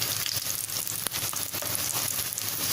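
Vada potato fritters frying in hot oil and being flipped to brown the other side, a dense, steady sizzle with light crackling pops, close and continuous.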